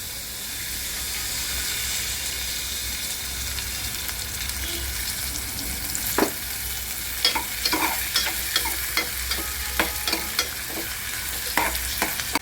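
Two onions frying in oil for methi rassa bhaji give a steady close sizzle and hiss, joined after a few seconds by a series of sharp scraping and stirring strokes against the pan, no voices.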